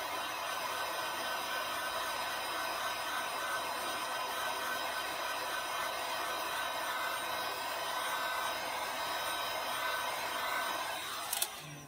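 A heat tool blows a steady stream of hot air onto the sides of a canister, a continuous airy roar that holds throughout, with a brief clatter right at the end.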